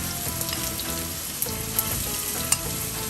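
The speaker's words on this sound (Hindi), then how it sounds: "अब मैं इसके अंदर ये आपके सामने प्याज डालती हूँ।" Finely chopped onions fry in hot oil for a Bombay mutton curry, a dense close sizzle with crisp pops and a few sharp spatters, heard without talking.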